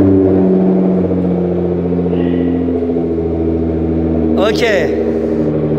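A Nissan GT-R engine with a new exhaust hums steadily at low pitch, close and loud, under a spoken voice, with a brief rising whir near the end.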